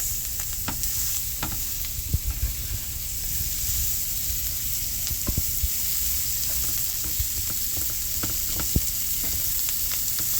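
Liquid sizzles in a skillet still holding browned bits from fried pork chops, a steady close hiss dotted with crackles and light scraping taps, no voices.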